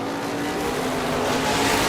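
ISMA Super Modified race cars roar around the Waterford Speedbowl oval in a feature race, a loud, close, sustained high-revving engine drone that builds slightly in intensity over a couple of seconds.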